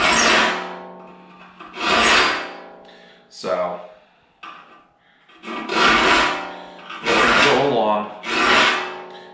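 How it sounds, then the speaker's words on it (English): A file rasps across the teeth of a hand saw in long, loud, repeated strokes, about six harsh scraping passes with short pauses between them. Someone speaks briefly during the strokes. "Saw filing can get quite loud and annoying"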